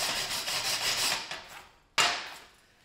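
A wire brush scrubs across a freshly chipped stick weld in steady rasping strokes. A brief pause follows, then one more hard scrub that fades out. It is close and there is no speech.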